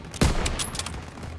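A single loud gunshot in the Call of Duty WWII video game, a sharp close crack with a short rumbling tail and scattered distant reports fading behind it.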